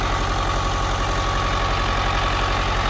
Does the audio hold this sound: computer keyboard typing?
no